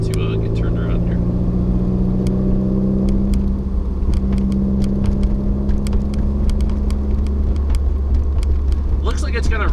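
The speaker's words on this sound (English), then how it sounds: "So bear with me as I maneuver my car." A 2015 Subaru WRX idling and creeping while turning around, a low steady engine rumble close by inside the cabin, with a person talking over it throughout.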